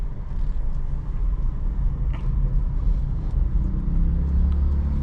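Car rumble on a market-area road during a car driving training lesson, a loud, steady low engine and road drone that stays continuous with no clear pass-by peak.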